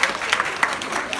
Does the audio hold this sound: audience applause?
yes